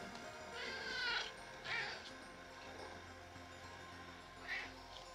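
A pet cat meows in a kitchen, giving three or four drawn-out, plaintive cries of differing length that are fairly quiet and close, over faint room noise with no speech.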